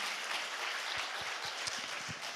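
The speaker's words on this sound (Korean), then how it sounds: "박수를 치려면 제대로 치고 안 치려면 말고." Congregation in a church service applauds with a dense, even wash of clapping, moderately loud and unbroken, with a few low thumps underneath and no one speaking.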